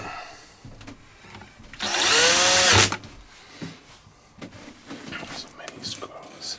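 Power screwdriver backing screws out of a JBL Boombox speaker during a teardown, a loud whirring burst of about a second amid quieter handling and clicks of the casing.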